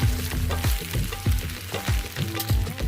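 Spiced potato pieces frying in a pan, a steady loud sizzle with rhythmic scraping and stirring strokes repeating throughout, close by and without talk.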